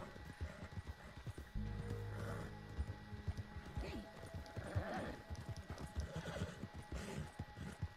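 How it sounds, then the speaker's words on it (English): Horse in the video game Red Dead Online neighs and whinnies loudly over rapid clip-clop hoofbeats, with a sustained engine-like drone and scattered thuds running through the scene. "Okay, my horse is like freaking dying."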